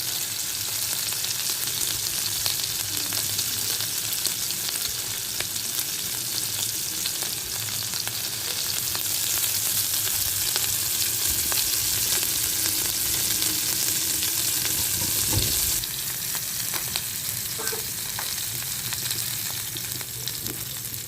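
Beef tikka boti pieces fry in a pan with a loud, steady sizzle, with occasional stirring and a brief thump partway through.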